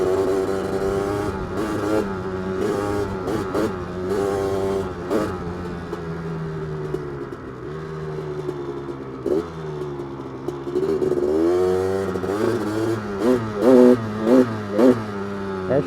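A 1985 Honda 250R with a rich-running engine revs repeatedly, rising and falling through uneven throttle blips. The tone is loud, close and buzzy and stays steady throughout, with short sharp bursts toward the end.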